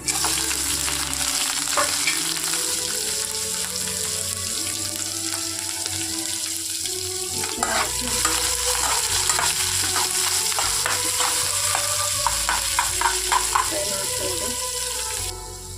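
Dried chillies, curry leaves and onion frying in hot oil with cumin, a continuous close sizzle with bursts of crackling and spatula clatter, and a running-water hiss in the background.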